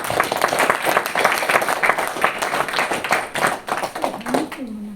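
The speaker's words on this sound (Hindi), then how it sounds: "तो महावीर स्वामी के लिए तालियां तो होनी चाहिए कि नहीं?" An audience claps for Mahavir Swami during a Hindi talk, a dense burst of many hands applauding nearby that thins toward the end as a voice starts speaking.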